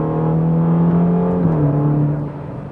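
A Ferrari Roma's engine drones loud and close while driving, holding a steady tone before shifting and easing off as the car accelerates.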